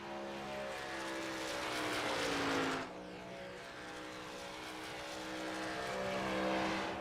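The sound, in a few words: Toyota Tundra race truck accelerating on speedway track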